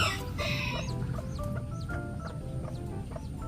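A bantam hen clucks softly and steadily with her chicks close by, while thin high cheeping from the chicks repeats throughout over a constant farmyard background.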